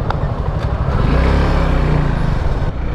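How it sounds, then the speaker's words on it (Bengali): A Suzuki Gixxer motorcycle cruising along the Dhaka elevated expressway, its engine a steady, close drone with wind and road noise swelling slightly midway. "প্রথমবারের মতো আসলে এলিভেটেড এক্সপ্রেসওয়ে দিয়ে আমি বাইক চালাচ্ছি"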